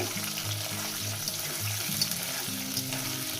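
Potatoes frying in oil in a pan, a steady close sizzle with a low rumble and intermittent tonal hum under it, no voices.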